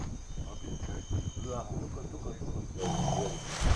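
A lion roars in the video game Far Cry 2, a rough low roar among ambient wildlife and insect sounds, fairly close and moderately loud throughout.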